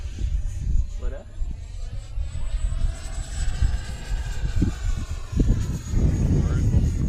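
A model airplane flies aerobatic manoeuvres at an RC flying field, its propeller engine droning and shifting in pitch as it passes through tight turns, with people talking loudly close by throughout.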